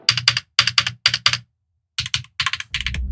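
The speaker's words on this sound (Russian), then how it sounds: "обратите внимание, насколько отвратительно звучит Logitech Pop Keys" Quick bursts of keystrokes on a Logitech Pop Keys keyboard, a loud clattery run of typing that breaks off into a short silence and then picks up again with more clicks.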